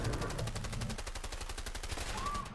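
An MP5 submachine gun firing on full auto in the prison-break game A Way Out, a fast, even, continuous burst held for the whole stretch, loud and close, with no talking over it.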